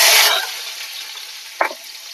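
Onion drops into hot oil with a dried chilli and cumin, setting off a bright hiss that settles into a steady sizzle, with one sharp scrape or clink near the end.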